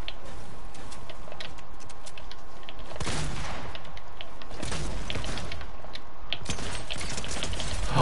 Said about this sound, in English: Shoot the SMG so fast.